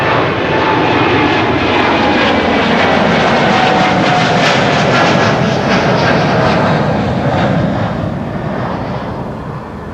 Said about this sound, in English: big bird coming over here, taking off from runway 24